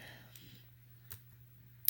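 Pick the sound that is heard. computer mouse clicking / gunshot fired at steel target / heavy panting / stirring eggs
computer mouse clicking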